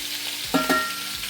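Lemon breaded chicken frying in butter in a pan, giving a steady low sizzle with a couple of brief stirring or scraping knocks near the middle, fairly close and with no voices.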